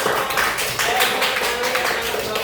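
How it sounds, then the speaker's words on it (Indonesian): A class of students clapping in a classroom, a brief, somewhat scattered burst of hand claps with voices mixed in. "Tepuk tangan dulu untuk kalian semuanya."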